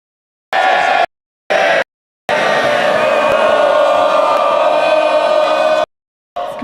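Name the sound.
House of Commons MPs cheering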